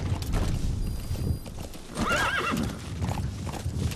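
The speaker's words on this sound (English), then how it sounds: "Never mind, I'll ride the horse." In Metal Gear Solid V, a horse gallops with steady, loud hoofbeats and gives a clear whinny partway through, with no other sounds over it.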